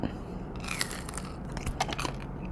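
Someone bites into a crisp, air-fried buffalo skin snack, giving a few close, faint crunching and cracking bites over a quiet background.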